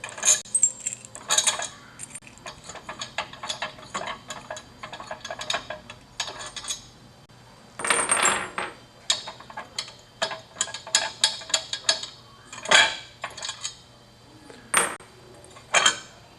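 Bolts being loosened and removed from a small engine's cylinder head, heard as a run of close metallic clicks, ticks and clinks of tools and bolts in irregular bursts, with no talking.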